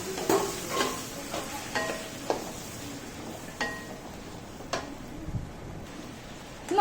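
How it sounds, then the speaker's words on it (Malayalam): Long beans being stirred and mixed in a cooking pan, with repeated scraping strokes of a utensil against the pan at an irregular pace over a continuous low sizzle. "ചേർത്ത് കൊടുത്തു നന്നായിട്ടൊന്ന് മിക്സ് ചെയ്ത് എടുക്കാം"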